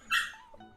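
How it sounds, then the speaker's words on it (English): A dog gives one short, sharp bark indoors during a fight between dogs, followed by a faint whimpering tail. "My dogs are being very noisy. They're fighting."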